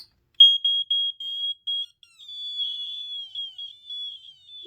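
EarliGard EGD-5S smoke alarm under test gives a piercing high-pitched beep, first as several short chirps, then a longer continuous wavering tone, close and loud in an otherwise quiet room.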